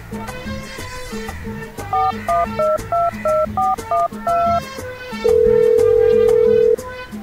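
Touch-tone keypad beeps, about eight quick dialing tones in a row, followed by one long steady ringing tone, clear and close.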